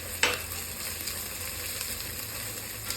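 Green chili sizzles and fries steadily in a hot pan for butter chicken, with a brief sharp crackle at the start.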